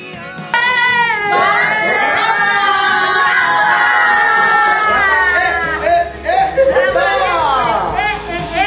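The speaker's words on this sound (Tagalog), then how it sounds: "sigawan ng mga kakilala niya na nagsasabing surprise" Friends and relatives yell "surprise" together at a baby shower, a loud burst of overlapping excited voices and shrieks that rises, holds, then breaks into scattered chatter.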